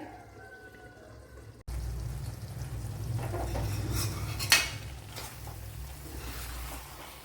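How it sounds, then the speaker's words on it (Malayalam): Chicken curry being stirred in a clay pot, a steady scraping and stirring texture with faint sizzling, a brief louder clink partway through, close and without talk. "അപ്പോൾ ഇടയ്ക്കിടയ്ക്ക് തുറന്ന് ഇളക്കി കൊടുക്കണം അല്ലെങ്കിൽ ചട്ടി ചട്ടിയുടെ അടിയിൽ പിടിക്കും"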